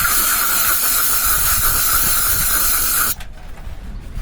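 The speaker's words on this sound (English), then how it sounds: "I'll take a little bit of carb cleaner." Carb cleaner sprays from an aerosol can onto a 2022 Honda Grom motorcycle, a loud, steady hiss lasting about three seconds before cutting off abruptly.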